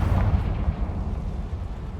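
A Confringo spell explodes in Hogwarts Legacy, a loud, heavy, rumbling blast that fills the whole short moment with no voice over it.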